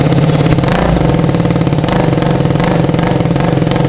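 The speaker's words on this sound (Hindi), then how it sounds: "अभी मैं तुम लोग को इसका एग्जॉस्ट नोट सुना देता हूँ एक बार" A motorcycle engine runs loud and close, its exhaust note a steady throbbing idle with rapid pulsing firing beats and no talk.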